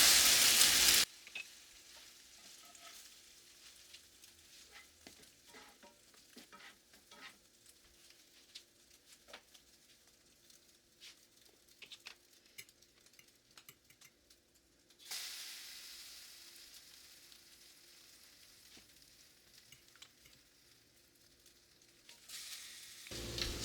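Egg-soaked French toast slices sizzle and fry in a hot pan with a steady, fairly quiet crackling hiss, swelling louder in the middle stretch, with no talking over it.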